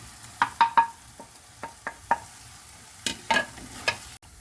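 Masala paste with pepper, garam masala and turmeric powders sautéing in a pan for a tapioca and crab curry, with a faint sizzle broken by scattered spoon taps and scrapes, close up and with no voices.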